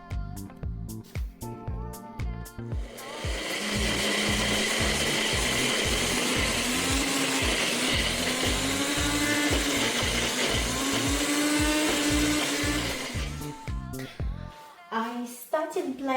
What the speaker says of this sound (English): I started blending the mixture and it turned out to be too thick.